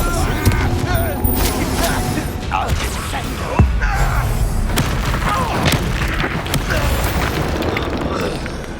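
An Expelliarmus spell cast during a duel in the Hogwarts Legacy video game: loud, dense magical rumbling and crackling that runs throughout, with a sharp booming impact partway through.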